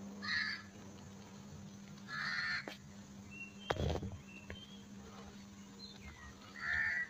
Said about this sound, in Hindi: बर्ड्स की आवाज़ें आ रही हैं, बहुत प्यारी लग रही हैं। एक कौवा भी आ गया।